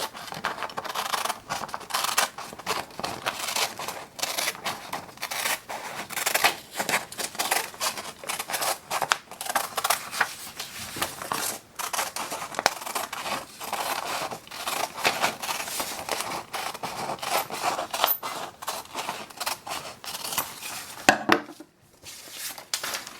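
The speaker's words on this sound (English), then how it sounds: "so I'm going to cut around her" Scissors snip steadily around a paper cutout figure, a dense run of close, crisp cuts and paper rustle throughout with a brief pause near the end; no talking.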